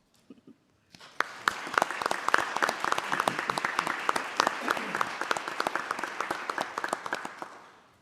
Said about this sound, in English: Would you please stand so we can recognize you with a round of applause?